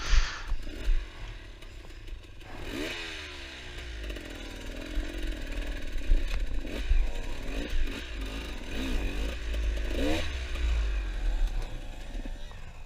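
A hard enduro dirt bike at a rocky climb, its engine revving and wailing in rising and falling bursts as the rear wheel spins without traction, rocks and dirt clattering, fairly close and continuous.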